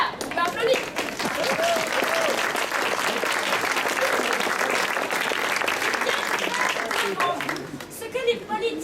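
A crowd claps in sustained, dense applause at a stage show, the clapping steady and full, with a few voices audible beneath it toward the end.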